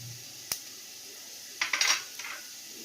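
Small cumin seeds dropped into a pan of fried potatoes, giving a sharp tap and then a brief scattered rattle and light sizzle against a quiet kitchen background.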